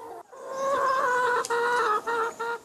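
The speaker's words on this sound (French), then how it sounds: "la poule pondeuse" Laying hens cluck and squawk continuously at close range at a poultry farm in Monteux, Vaucluse, in a busy overlapping chorus with short pauses near the end.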